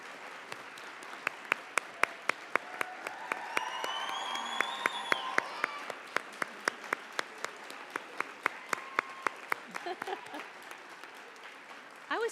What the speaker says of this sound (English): You got more than applause, you guys.